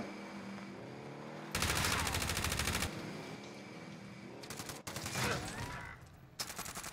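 Gunfire from a squad in Call of Duty Warzone on the original 1984 Verdansk map: two long, dense bursts of automatic fire ring out, followed by a short volley and another burst near the end, with little talk.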